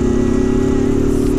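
A Honda CB Twister motorcycle engine idles steadily nearby, a loud, even mid-pitched hum with a constant pulsing rumble and no revving.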